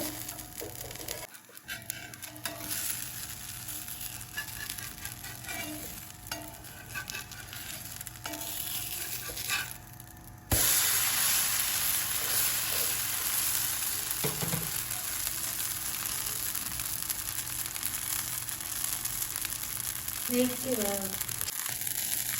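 A dosa frying in oil on a hot pan, with a steady broadband sizzle running throughout that gets louder after a brief clatter midway, and a few faint background noises.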